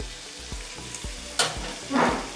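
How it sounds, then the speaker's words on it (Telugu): Ginger garlic paste sizzles and crackles in a hot pan for a beans egg curry, with soft spoon scrapes and stirring knocks repeating at close range. "ఇప్పుడు జింజర్ గార్లిక్ పేస్ట్ కొంచెం వేసుకుంటాం ఎక్కువ జస్ట్ లైట్గా అంతే చాలు"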